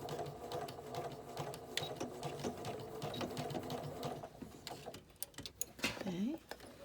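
A sewing machine runs in steady rapid stitching bursts along a quilt block seam for a LeMoyne Star block, its needle chatter close and fairly quiet, with a person talking over it and brief pauses near the end.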